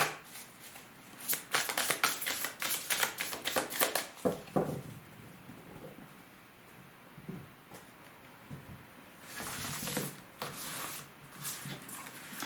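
Tarot cards are drawn from a deck and laid on a table, making faint, close papery rustles, slides and soft slaps in short clusters separated by quiet pauses.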